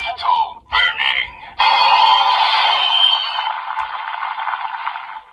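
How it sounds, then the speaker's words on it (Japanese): A Kamen Rider Decade driver toy plays its electronic Burning form sound effect: short bursts followed by a loud, sustained crackling, sizzling roar that slowly fades, fairly close and without talking over it. "おお、焼け焦げるような音が入ってるね。"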